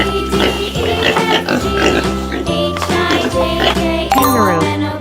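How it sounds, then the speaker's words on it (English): Cartoonish pig oinks and grunts repeat over a bouncy, jingly children's tune, loud and upfront with no talk over them. "Pig. Pigs are very intelligent animals"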